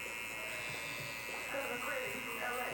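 Electric hair clippers with a one guard and the lever open, cutting a bald fade, a soft steady buzz close up with slight changes in pitch as the blade flicks through the hair.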